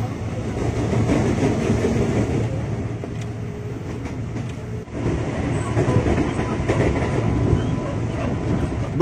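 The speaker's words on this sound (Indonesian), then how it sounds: "KRL yang ke arah Bogor berangkat juga." KRL commuter train bound for Bogor pulling away from a station, steady rumbling wheels and clickety-clack over rails heard from close by, a continuous loud rolling noise.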